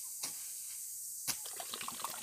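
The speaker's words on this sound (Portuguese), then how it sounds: "Vou deixar a panela encher pra gente cozinhar, botar o mocotó no fogo." Water runs from a tap into a cooking pot at a rural farmstead, a soft continuous splashing and hiss with a few sharper spurts.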